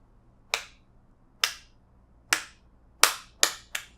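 Six sharp, dry finger snaps mimic fat tears hitting the ground, spaced about a second apart at first and then coming quicker at the end, each one crisp and isolated in a quiet room.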